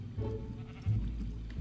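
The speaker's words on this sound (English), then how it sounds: "Ooh, I killed a sheep." A sheep bleats as it is killed in a blocky survival video game, one wavering game sound effect about a second and a half long over a low steady background.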